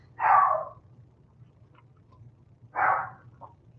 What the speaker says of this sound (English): Not sure if you can hear my dogs.